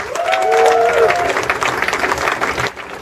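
A wedding reception crowd breaks into loud applause and cheering for the bride and groom, with a few whistles early on, before the clapping thins out and fades.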